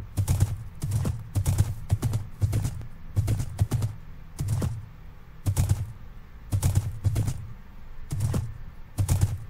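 Horse hooves in Minecraft clop in a steady, evenly spaced series of close, dry thuds, about a dozen hits over several seconds with no talking.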